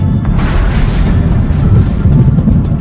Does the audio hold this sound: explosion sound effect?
yes